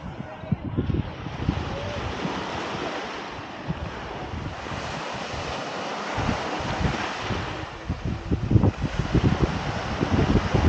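Ocean surf rolls onto the beach at Seaside, Florida in a broad continuous wash, with heavy wind buffeting the microphone throughout.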